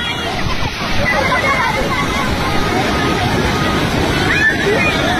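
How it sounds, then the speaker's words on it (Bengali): Muddy flash-flood water from the hills rushes and churns in a loud, continuous roar, with voices of people shouting and talking over it. "পাহাড়ি বানের পানিতে তারা বেসে যাচ্ছে"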